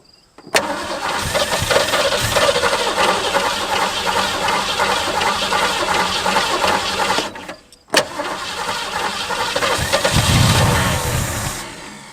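An old barn-find Ford Mustang, sitting unused for 25 years, cranks and fires, its engine running loud and rough for several seconds, cutting out briefly, then catching again and revving.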